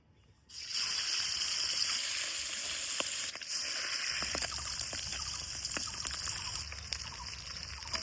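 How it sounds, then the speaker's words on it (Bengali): Pieces of pabda fish frying in hot mustard oil, a steady loud sizzle that starts abruptly after a quiet moment and continues with small pops and crackles, no talking. "একে একে পাবদা মাছগুলো ভালো করে ভাজি নিব"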